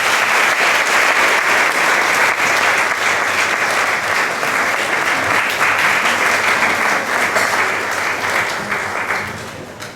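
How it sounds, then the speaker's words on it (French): Sustained, loud applause from an audience at a ceremony in Grand Bassam, a dense unbroken wash of clapping that holds steady for the full stretch and begins to taper off at the very end. "que je vous demande d'applaudir."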